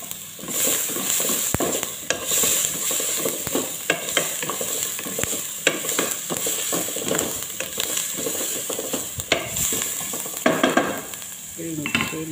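Green chili sizzles steadily in a frying pan while making samosa filling, with scattered stirring scrapes and clinks of a utensil against the pan throughout, close and fairly loud.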